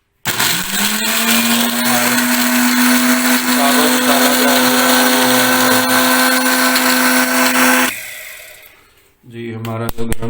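An electric grinder roars loudly for about eight seconds, pulverizing whole coriander seeds and garam masala spices, then cuts off, with a brief rattle of the jar after.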